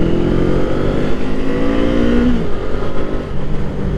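A Kawasaki Eliminator motorcycle engine runs loud and close with a steady droning note that rises and shifts pitch as it revs, then settles slightly toward the end.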